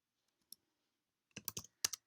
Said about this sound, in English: I'm just going to quickly type the rest that I want to work on.